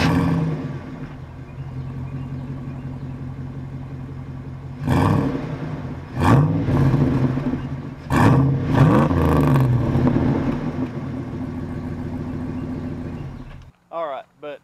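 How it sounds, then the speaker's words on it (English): A first-generation Dodge Dakota pickup with a single-pipe Borla muffler idles with a deep burbling exhaust, then revs sharply several times in quick bursts before cutting off; brief talk follows at the end. "I upgraded to a Borla exhaust, actually a Borla muffler, single pipe going out, and I think it sounds great"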